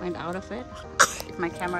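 A baby's brief, sharp sneeze bursts out once in the middle of steady adult speech in a summer garden, close by.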